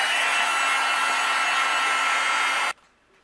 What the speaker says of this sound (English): I'm going to go ahead and take my heat gun and we'll melt it.